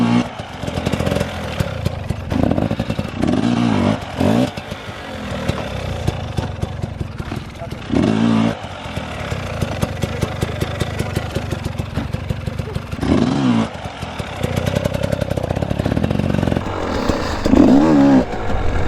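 A dirt bike engine revs hard and drops back again and again during wheelie practice, loud and close throughout, with engine clatter and brief surges of throttle.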